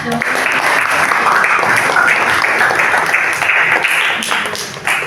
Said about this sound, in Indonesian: terima kasih ya buat Sanes dan Naila, kita beri tepuk tangan.